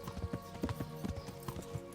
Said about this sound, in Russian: симулятор скачек на лошади. Почему нет? Просто мы едем до места, скачем точнее.